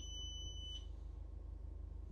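A faint, high electronic beep from the wheelchair request button on an accessible minibus sounds steadily for under a second, then stops, leaving a low mechanical hum.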